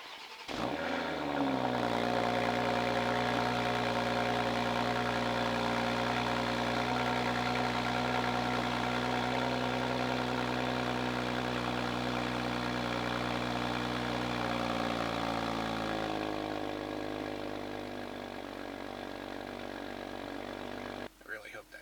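A 2021 BMW X3 M40i cranks and fires on a cold start, flaring loudly before settling into a steady high idle that gradually drops lower, running alone until a brief disturbance at the end.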